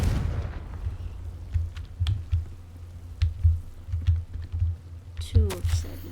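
Confringo explosive spell cast in a fantasy video game, a series of muffled booming blasts and impacts with sharp cracks scattered through, following a short spoken incantation.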